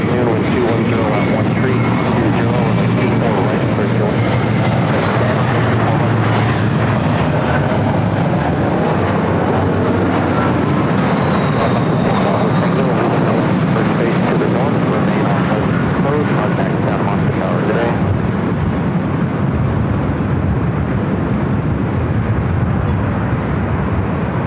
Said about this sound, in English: Singapore Airlines Flight 12 coming in from Tokyo Narita on the